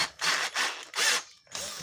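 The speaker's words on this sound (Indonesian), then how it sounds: "ini mata bor baut 10 untuk pelepasannya" Power drill with a 10 mm bit working a bolt loose on a washing machine motor: three loud grinding bursts with short pauses between, then a fourth starting, close up and alone.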